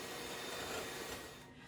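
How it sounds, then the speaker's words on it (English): Electric hand mixer beating cream of coconut until foamy for a piña colada icebox pie, a steady whirring hum that holds level for about a second and a half, then eases slightly near the end, with no talk over it. "We're going to use our hand mixer and beat this until it's foamy."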